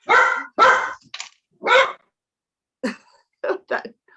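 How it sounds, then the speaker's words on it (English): A dog barks in short bursts, two loud barks, then a pause, then another bark and a few quieter yaps. No one speaks. "that word obviously inflames your dog"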